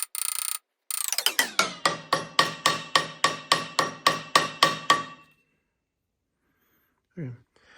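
A hammer beats a piece of sheet metal straight, striking about fifteen ringing metallic blows in a fast, even rhythm, close and fairly loud, then stops. A short faint sound follows near the end.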